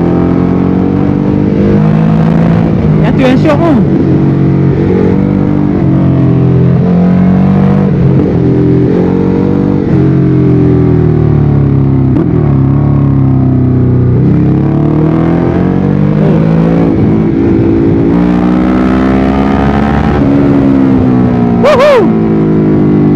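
A Ducati Hyperstrada 821 L-twin engine revving loudly and continuously while riding through corners, its pitch climbing and falling with each throttle change, and a rider briefly speaks over it.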